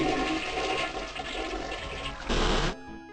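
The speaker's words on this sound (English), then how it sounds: "Flush the toilet 3 times" A toilet flushing in the video game I Have No Mouth and I Must Scream: one loud, continuous rushing flush that swells near the end, then cuts off abruptly, heard alone without talk.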